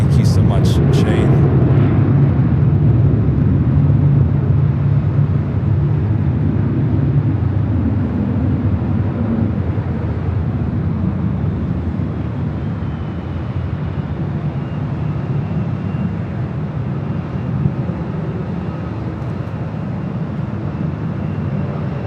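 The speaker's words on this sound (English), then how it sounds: "KLM number 2 for takeoff." A KLM airliner takes off from Los Angeles airport on Flight 602 to Amsterdam, a loud, steady low jet roar holding for twenty seconds with a faint, rumbling, noise-filled texture.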